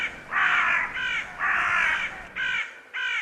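Crow in a whimsical island setting calling five times: loud harsh caws in an uneven rhythm, the first and third drawn out and the rest shorter, fairly close and with no talk over them.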